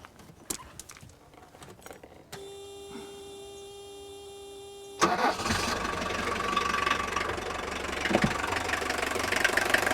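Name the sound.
old four-cylinder diesel engine starting and clattering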